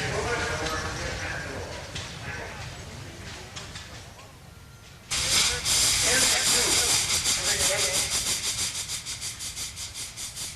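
A one-third scale 1915 K steam tractor, weighing 1,400 pounds and running on 125 pounds of steam, hisses loudly and steadily, the sound jumping louder halfway through and pulsing rhythmically under outdoor crowd noise and voices.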